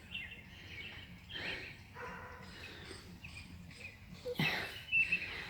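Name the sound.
dogs barking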